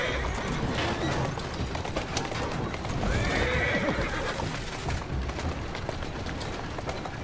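A horse-drawn carriage rolls on in Assassin's Creed Syndicate, with hooves clip-clopping steadily and the horse neighing and whinnying close by, set against a busy rumbling background.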